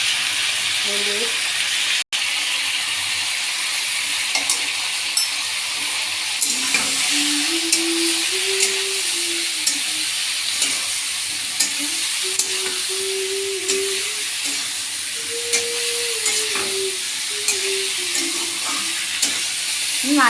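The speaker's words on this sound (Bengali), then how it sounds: "এই যে রসুন পেঁয়াজের সাথে কুচা দিয়ে দিচ্ছি, ভাজা ভাজা করে দিচ্ছি" Garlic and chopped onion frying in a pan alongside fish, a steady loud sizzle throughout while someone talks over it.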